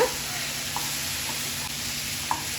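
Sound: chicken being stirred in a pan with salt

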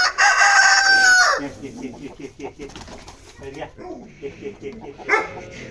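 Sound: chickens and roosters on a farm

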